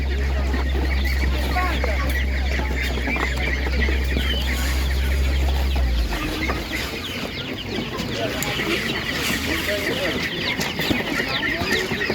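Poultry at an animal market, hens and roosters clucking and chattering continuously around the listener, while someone talks over the birds and a low hum drops away midway.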